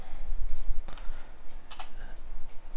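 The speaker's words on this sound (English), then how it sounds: "and type while" Typing on a computer keyboard, a quick run of close, distinct key clicks with a few sharper taps, heard alone without talk.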